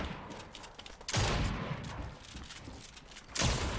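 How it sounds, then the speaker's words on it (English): Gunfire in the video game Fortnite, bursts of rapid shooting with a couple of louder booming volleys, moderately loud over a busy noisy background. "What are you shooting at?"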